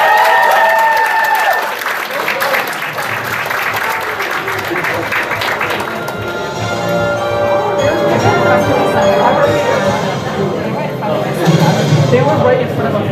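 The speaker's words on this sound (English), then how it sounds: "Give a round of applause." Crowd applause fills a game-show panel at the Anime Boston 2024 convention, a steady dense clapping that holds for the whole stretch, with crowd voices and cheering mixed in.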